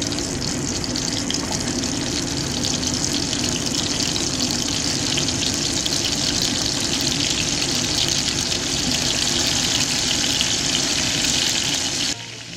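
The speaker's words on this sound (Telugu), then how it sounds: "ఆయిల్ వేడెక్కిన తర్వాత ఈ రొయ్యల్ని ఒక్కొక్కటిగా నూనెలోకి యాడ్" Prawns frying in hot oil in a kadai for Andhra-style royyala vepudu give off a loud, steady broadband sizzle and crackle that holds unbroken for the whole stretch, close up with no voices.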